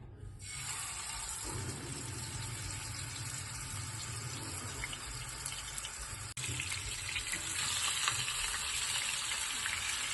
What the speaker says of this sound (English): I'll move on to searing my chicken on both sides